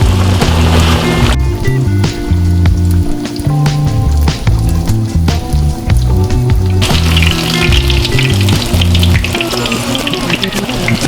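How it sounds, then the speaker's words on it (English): Chicken pieces crackle and sizzle loudly in hot oil in a pan, a continuous close frying hiss with bursts of popping, and low bubbling throughout and no talking. "we got our oil nice and hot, so we're just going to start crisping up these bad boys until they're nice and golden brown on each side"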